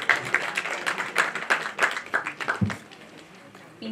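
At a film press meet for The Indian Story, an audience claps in quick, rhythmic applause to welcome guests onto the stage, fading after a few seconds.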